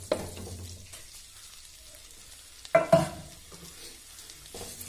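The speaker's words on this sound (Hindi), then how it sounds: "इसमें फ्राई किए हुए सोयाबीन ऐड करेंगे।" A spoon stirs fried soybeans and potatoes in a sizzling pan, a soft steady frying hiss under a couple of sharper scraping clanks of the spoon against the pan.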